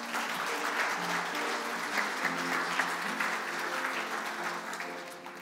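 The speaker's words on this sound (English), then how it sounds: "can we give her a round of applause?" A church congregation applauds in sustained, even clapping that fills the whole stretch, dense and steady with no voices over it, as a tonal sustained hum, like music or an organ, lingers faintly underneath.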